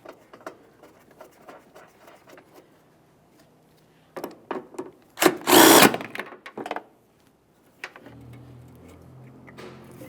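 A power tool briefly drives a mounting nut on a coolant reservoir in a 2002-2009 Chevrolet Trailblazer, with a short loud whirring burst between quieter clicks and handling noises nearby.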